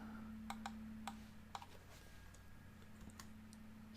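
Scattered keyboard taps, a few quick clicks then pauses, faint over a steady low hum and background noise.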